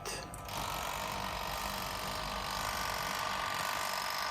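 A small kitchen oven, likely a microwave, running to heat natto, giving a steady mechanical hum with a faint rattling whir. It starts after a brief click and holds evenly and close, with no talking.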